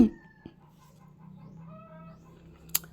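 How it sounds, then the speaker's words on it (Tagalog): Outdoor chickens clucking with hints of a rooster crow, a soft continuous fowl chatter between two sharp knocks near the start and end. "Maingay ang manok ngayon guys, hindi ko po alam kung bakit."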